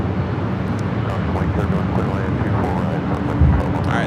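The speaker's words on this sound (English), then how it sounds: "this is the flight heading to JFK, 767-300 ER" A Boeing 767-300ER airliner bound for JFK rumbles at LAX, a broad steady roar of jet engines heard at a distance, continuous and fairly loud throughout.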